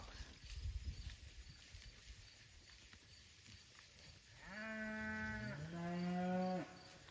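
Cattle on a lush silvopasture on a hot day, with a cow giving two loud, drawn-out moos in the second half after a quieter stretch of outdoor ambience.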